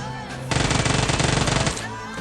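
Sustained burst of submachine gun fire in the PUBG Mobile battle royale game, an Uzi spraying rapidly for about a second and a half, loud and dense, with quieter game ambience before and after.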